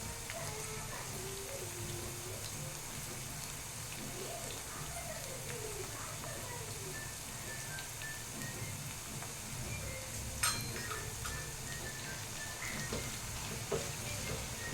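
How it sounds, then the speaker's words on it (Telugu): Okra deep frying in plenty of oil gives a soft, continuous sizzle at low level, while faint birdsong and cooing drift in from the background. "సో ఎక్కువ ఆయిల్ వేసి డీప్ ఫ్రై అయితే చేసుకోండి"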